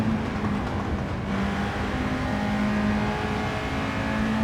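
A Honda car accelerating in Gran Turismo 7, a steady loud engine drone with a sustained low tone that shifts pitch as it pulls through the gears, running continuously throughout.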